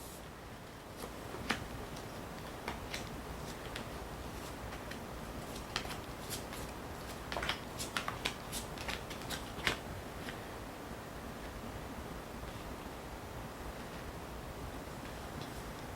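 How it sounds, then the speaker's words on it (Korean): Tarot cards being handled and flipped over at a reading, heard as soft rustling with a scatter of light, sharp snaps and flicks spread through the clip over a quiet background hiss. "카드를 모두 뒤집어 보았습니다"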